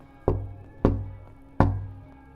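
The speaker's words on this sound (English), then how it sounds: "At exactly 12, there were 3 knocks on our front door." Three even, solid knocks on a front door, spaced roughly evenly apart with short decays, close and distinct over a quiet room tone, with no voices.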